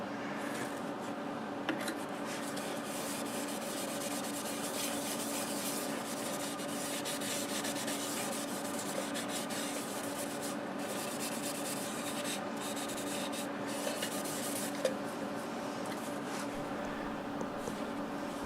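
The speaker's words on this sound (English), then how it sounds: "Alright, ready for some sanding sealer." Steady soft rubbing as sanding sealer is worked by hand onto a freshly turned, fresh-cut English walnut bowl, a continuous close friction hiss with faint hum and no speech.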